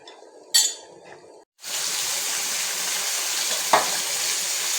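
Silver fish curry simmers in a pot, giving a steady, close hiss of bubbling after a few brief utensil clinks and a short pause.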